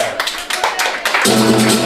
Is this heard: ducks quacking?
no